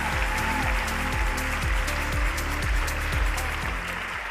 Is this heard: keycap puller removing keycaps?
no